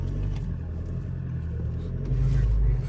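A Toyota Hilux GR Sport rumbles along off-road through floodplain mud, heard from inside the cabin as a low, steady engine and road drone that swells slightly near the end.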